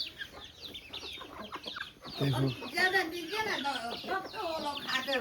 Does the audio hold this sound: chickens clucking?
yes